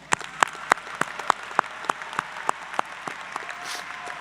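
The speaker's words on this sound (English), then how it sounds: "Please join me in giving them a round of applause." An audience applauds at a college fall commencement ceremony, with sharp, evenly spaced claps standing out above a steady wash of crowd clapping, moderately distant and without any talk.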